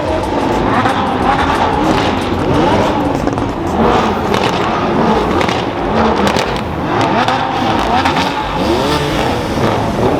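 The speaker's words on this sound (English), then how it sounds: "Flat sixes sound so good." Loud, continuous flat-six sports car engine roar with repeated revving and passing cars at a Crown Rally West launch party in Denver, a crowd murmuring faintly underneath.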